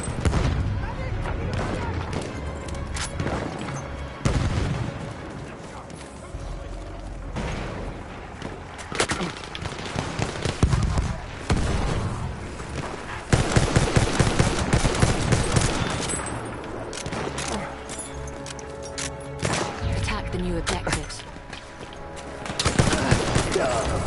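An enemy artillery barrage in a war video game, a long stretch of dense repeated booms and rapid gunfire bursts that swell and fade, loud and continuous with brief lulls.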